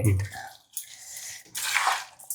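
Boiled and cooled water is poured into homemade lemon pickle for an Onam sadya, a short wet splash followed by soft drips and squishy liquid sounds, close by.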